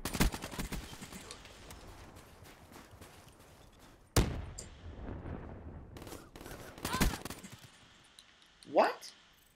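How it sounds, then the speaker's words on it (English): Gunfire from the video game Black Ops 3 comes in sharp bursts at the start and then around four and seven seconds, with a whooshing effect near the end. Game sounds and a low voice run underneath. "He hit me with one burst of gunfire and I died."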